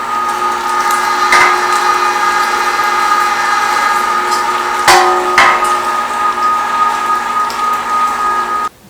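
An electric meat grinder runs steadily while grinding venison, a loud constant motor whine with a few sharp knocks and clunks, then stops abruptly at the end.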